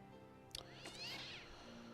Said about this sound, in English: Oh, stupid cat.